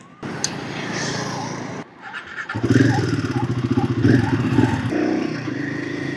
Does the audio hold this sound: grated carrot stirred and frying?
no